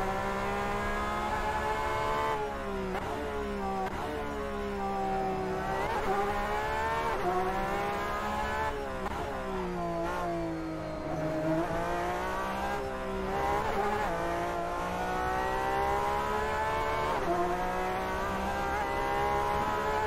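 A race car in Assetto Corsa with a modded sound pack screams steadily at high revs, its engine note rising and falling through gear changes and corners, with occasional tyre squeal and no talking.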